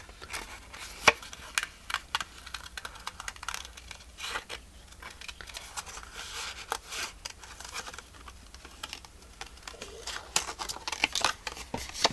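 Sharp, irregular snips of small scissors cutting paper, close up, with soft rustling between cuts and no talking.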